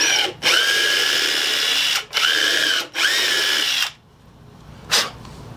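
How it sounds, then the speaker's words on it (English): A power drill drives screws into pallet wood for a martin birdhouse floor, three loud whirring bursts separated by brief pauses, then a short final spin, close up with no talk. "I can run the screw down in without any trouble at all."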